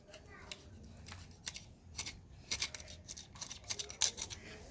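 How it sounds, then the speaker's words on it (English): Small scissors snip through a wooden match near its head, giving a quick run of sharp clicks and crisp snips, close and fairly quiet, with soft rustling between the cuts. "Step is to cut the match head from the match itself."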